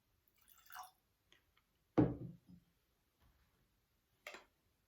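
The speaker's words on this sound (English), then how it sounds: "maybe add a wee bit more water into that one" Drops of water fall into a whisky glass in a quiet room. There are a few sharp, isolated ticks and plinks with long silences between them.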